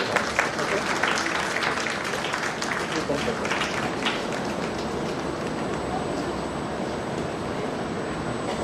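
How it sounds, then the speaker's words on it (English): An audience at a book launch in Bengaluru claps in a dense, sustained round of applause that fills the room and stays steady throughout, while a voice speaks over it. "Round of applause."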